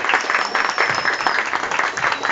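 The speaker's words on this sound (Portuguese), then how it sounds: "Mais uma salva de palmas para as bailarinas tão lindas," An audience applauds ballerinas at a school dance performance, with brisk, dense clapping that pulses continuously at moderate volume throughout.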